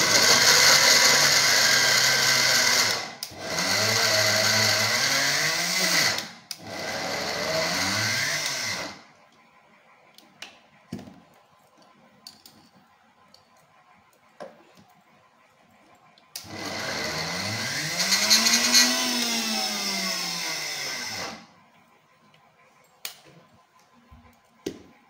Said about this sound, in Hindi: अब मैं इसे जो है मिक्सी में जो है ग्राइंड कर ले रही हूँ एक बार